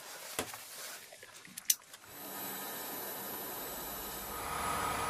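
Twin engines on a CH-53K heavy-lift helicopter run in a sub-zero cold-weather test lab. A few sharp clicks and knocks come first, then a steady, loud turbine roar with a high whine sets in and holds.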